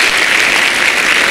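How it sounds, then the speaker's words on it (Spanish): Loud, dense applause from an audience at a talk about play and learning, a steady roar of many hands clapping throughout the short moment with no voices. "hacemos un aplauso, un fuerte aplauso"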